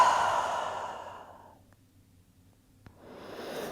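A deep exhale during a yoga pose, a long breathy release that starts loud and close, then fades away to near silence, with a faint click near the end and a soft rising breath afterward.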